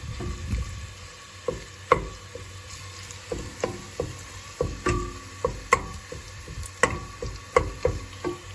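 Tomato paste frying in a pan as a spoon scrapes and stirs it, giving soft sizzling under repeated close taps and scrapes against the pan at a fairly steady rhythm, with no talk.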